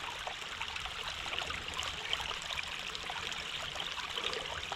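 A rain-fed stream runs across a road in Virginia, a steady close rushing and trickling of water that stays even and continuous throughout.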